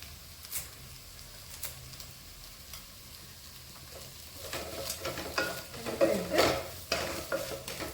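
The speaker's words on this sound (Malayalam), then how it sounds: "കുറച്ച് കറിവേപ്പില കൂടി നമുക്കിടാം." Curry leaves dropped into a hot pan for kothu parotta start as a quiet hiss and swell into a louder crackling sizzle, with stirring and scraping strokes close by.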